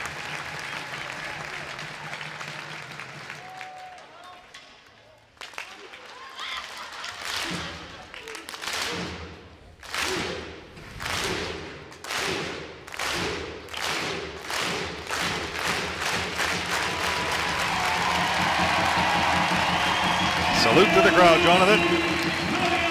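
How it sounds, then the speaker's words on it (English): Ice hockey fans at a Sheffield Steelers versus Fife Flyers play-off quarter-final clap in a rhythmic arena chant whose beats speed up and blend into a sustained roar of applause and cheering, with commentary voices underneath. "well-deserved applause in both directions"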